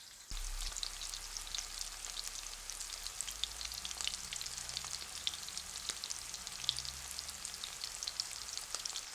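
Venison shanks searing in a hot pan, a steady close sizzle and crackle that continues evenly throughout with no voices.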